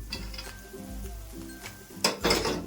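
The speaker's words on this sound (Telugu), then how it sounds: "ఇందులో మనం పెట్టుకున్నాం కదండి జీడిపప్పు బాదం పప్పు అవన్నీ ఇందులో వేసేసుకుందాం" Cashews and almonds tipped into hot ghee in a pan for rusk halva, with soft sizzling, stirring and a few metallic clinks, then a louder scrape and clatter near the end.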